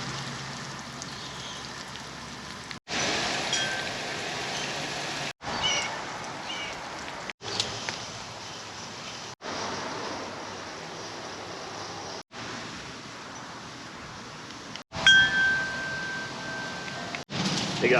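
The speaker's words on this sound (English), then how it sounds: "for deep watering, what we do is literally just have the hose on a trickle" Garden hose left on a gentle trickle deep-soaking garden beds, a steady soft wash of running water heard close and alone, broken by several brief cuts.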